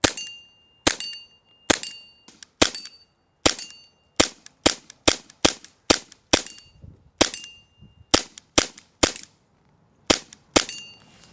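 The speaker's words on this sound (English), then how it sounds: "Hip fire with the tracers only." Airsoft gun hip-fired with tracer rounds at targets outdoors: a rapid series of sharp, close snapping shots, each followed by a brief metallic ring, in an irregular rhythm with short pauses between bursts and no talking.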